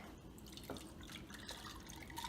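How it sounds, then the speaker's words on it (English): A non-alcoholic mint julep is poured into a frosted glass over ice, giving a faint trickle with light dripping and a brief clink. It is quiet and close, with no talking. "And then I have a frosted glass with some ice. And let's go ahead and pour some in here"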